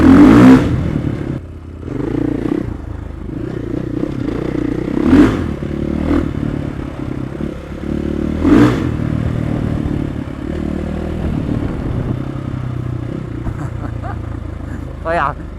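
Supermoto motorcycle built on an enduro base, revving in short bursts with a wheelie and a skid, engine surges near and loud with clattering and scraping between throttle blips, someone talking over much of it.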